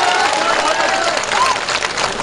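Large crowd at a political rally in India applauding steadily and loudly for the whole stretch, dense clapping with crowd noise and a faint voice woven through.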